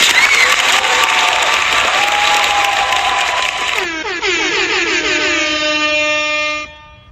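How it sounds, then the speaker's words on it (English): At a boxing fighters' arrival event, a crowd applauds loudly while blaring air horns sound over the clapping and cheering, then the noise fades out near the end. "Let's give Bruce Gas a round of applause."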